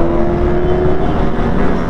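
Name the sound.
motorcycles riding through a tunnel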